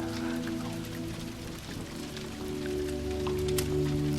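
Soft, steady rain falls in a continuous low hiss with scattered light droplet taps, quiet and even throughout, accompanied by a faint low hum.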